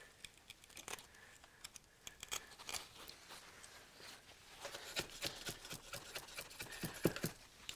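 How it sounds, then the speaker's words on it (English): Carpet is cut for a stair carpet ramp on a 34mm step, heard as faint, close, irregular snips and scratchy slicing strokes with quiet pauses between. "So now cut the"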